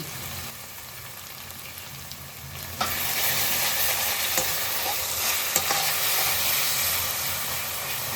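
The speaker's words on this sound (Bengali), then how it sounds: "এবার আমি দিয়ে দিচ্ছি একটু গরম মশলার গুঁড়ো আর দিয়ে দেবো একটু ঘি" Banana flower kofta masala is stirred in a pan after garam masala powder and ghee go in, a close, continuous sizzle and hiss that swells louder partway through, with scraping stirs.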